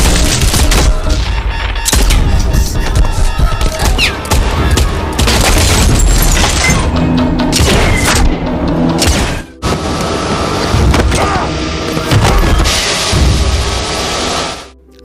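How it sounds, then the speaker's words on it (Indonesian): Dense, loud gunfire and explosive booms from a brutal action film fight scene, with rapid bursts of shots and heavy blasts running almost continuously and only a brief break partway through. "mendengar suara keributan dari letupan senjata"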